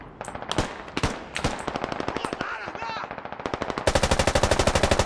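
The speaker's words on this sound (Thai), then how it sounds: "มีเสียงยิงข้างหน้า ระวังด้วย" Gunfire in the video game Squad: rapid, loud automatic bursts with evenly spaced shots. A steady stream of fire closes the clip.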